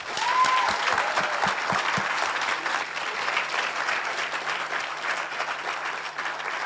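Sustained applause from an audience at the closing ceremony of the Vox Milo 2025 event, steady and fairly loud throughout, with a few low thumps early on and a brief whistle or cheer near the start.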